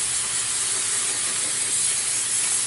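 Aerosol solvent cleaner sprays in a steady, close, loud hiss over a transmission pan from a 1998 Mercedes-Benz C280, one unbroken blast with no voices.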